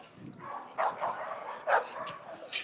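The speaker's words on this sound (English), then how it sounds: "Dre, you remember that dog I took back with me, the little tricolor one?" A small tricolor puppy gives a few short, high yips and barks spaced apart, fairly close, against a quiet background, with faint talk in between.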